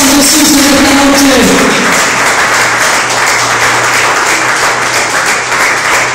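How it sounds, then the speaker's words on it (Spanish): A congregation gives strong applause to Jesus during an evening Spanish-language church sermon, a loud, dense roar of many hands clapping continuously, with a faint tonal hum and brief voices early on. "Hay un fuerte aplauso a Jesús en esta noche."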